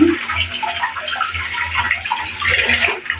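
A large, scaled rohu fish being washed under running water, with a steady close gush and splash from a tap continuing throughout.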